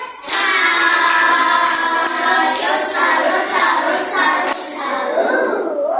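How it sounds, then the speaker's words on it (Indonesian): Schoolchildren in a classroom clap for a presenting group, a loud, fairly steady patter of many small hands with children's voices mixed in, tapering off near the end. "kasih tepuk tangan untuk kelompok keluarga"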